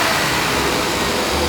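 Mercedes 450SLC engine running at steady revs, a continuous close mechanical drone with no clear peaks over the short stretch.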